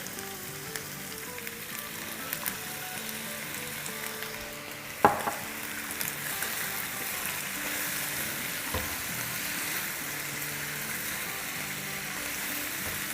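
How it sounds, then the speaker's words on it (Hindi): Vegetables with soy sauce fry lightly in a pan, giving a steady soft sizzle with occasional stirring clinks and a brief utensil knock, close and continuous. "इसे बहुत लाइटली हमें फ्राई करना है"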